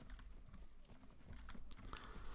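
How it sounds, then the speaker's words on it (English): Cavalry horses charging in the video game Mount and Blade: Warband, with a steady rumble of many hoofbeats clip-clopping, faint and distant. "let our cavalry charge in the hopes to prompt them into charging."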